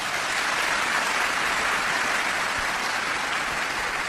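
A church congregation applauds couples married for over forty years: steady, dense clapping from a crowd throughout, sustained without a break and no voices standing out.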